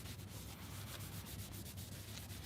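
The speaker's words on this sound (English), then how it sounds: "And then I'm just gonna wipe this thing down here." Steady scuffing rub of a cloth wiped back and forth over an interior trim piece from an Infiniti G37 coupe, close and continuous with a faint low hum underneath, no talking.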